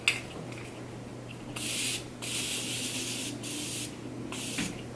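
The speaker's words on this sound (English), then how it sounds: "I'm going to spray my face with this Morphe Mattifying Continuous Setting Spray." Morphe Mattifying Continuous Setting Spray misted onto a face in several long hissing bursts, close and fairly loud, separated by short pauses.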